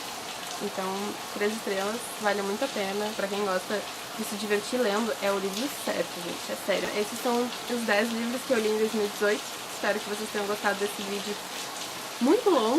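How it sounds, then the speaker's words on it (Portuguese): Steady rain falls outside throughout, a soft continuous patter underneath someone talking indoors close to the microphone. "Desculpa o barulho da chuva"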